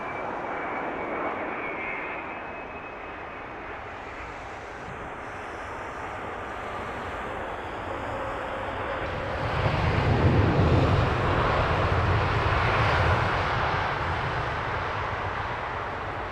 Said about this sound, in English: Nice, quiet, subdued Dreamliner arrival.